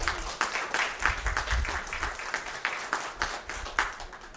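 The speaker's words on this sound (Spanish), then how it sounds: "¿Por qué no aplaudimos a nuestro Señor Jesús" A church congregation claps together at a Sunday service, a dense, steady wash of applause that runs the whole stretch with slight swells, close and fairly loud.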